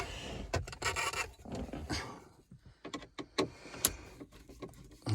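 T20 screws are backed out of the stereo trim of a Ford Mondeo mk4 facelift with a screwdriver: close rubbing and scraping, a few sharp clicks and small metallic taps, fairly quiet with short pauses between bursts.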